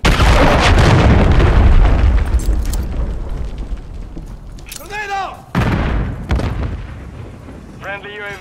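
A grenade blows up in the Call of Duty video game with a loud, close boom and a long rumbling tail, followed by battle noise, a second burst and voices speaking over it.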